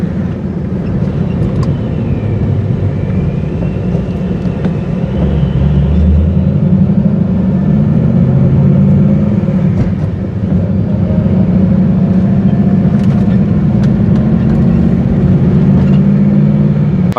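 A 2002 Chevrolet Camaro SS SLP drives along, its engine a steady loud low drone mixed with road and wind rumble inside the car, with a brief rise in engine note partway through.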